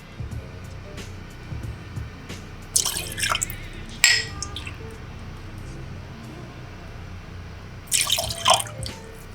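Red cocktail liquid for a watermelon candy-flavored drink splashes into a mixing glass in a few short bursts of close, bright pouring, with quieter dripping in between.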